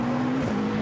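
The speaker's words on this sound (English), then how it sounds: "round the outside of Nick Katzberg, to unlap itself, goes the number 2 Audi" The number 2 Audi GT race car passes on the Monza circuit, a steady loud engine drone with a sustained tone that shifts slightly in pitch over a brief moment.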